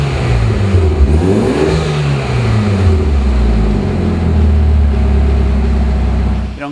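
A 2008 Mitsubishi Lancer Evo X engine revs loud and close, with pitch sweeping up and down through several throttle blips over a steady rumble, no voices present.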